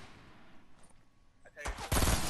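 Pistol shots in the Fortnite battle royale video game, a couple of loud sharp cracks arriving at the end after a quieter stretch, close and dominant.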